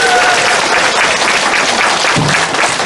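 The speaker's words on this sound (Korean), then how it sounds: "다시 한번 뜨거운 감사의 박수를 부탁드립니다." An audience at a Korean business convention lecture applauds loudly, a dense and sustained wash of many hands clapping from start to finish.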